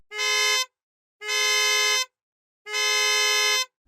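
Three loud, sustained two-stage horn blasts from a Lucid Air in steady succession, the later ones longer, with a bright, layered two-tone quality that sounds almost like an alarm.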